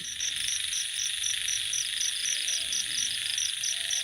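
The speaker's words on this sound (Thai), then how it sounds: "เสียงธรรมชาติเสียงกบ" Frogs and insects calling at night in a dark Thai garden, a steady dense chorus with a regular pulsing trill repeating throughout, close and continuous with no voices.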